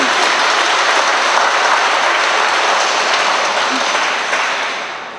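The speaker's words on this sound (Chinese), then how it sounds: "我们拍手鼓掌来，彼此鼓励。" A church congregation claps together at a Catholic church dedication ceremony, dense, sustained applause filling the hall, loud and even before tapering off at the end.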